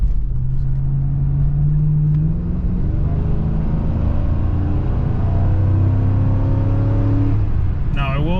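Mercury Marauder V8 sedan accelerating from inside the car, a loud, deep engine note rising steadily in pitch through a gear change before easing off near the end.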